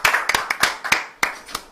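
A few people clap together to close a live broadcast interview, about ten sharp, distinct hand claps in an uneven rhythm, close and fairly loud, with no talk over them.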